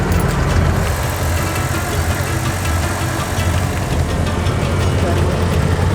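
A canal boat engine in Old Dubai runs steadily with a low, continuous rumble throughout, and people can be heard talking nearby.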